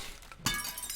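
Glass shattering in the destruction game Teardown, a single sharp loud crash with bright scattering debris that rings on briefly, no talk.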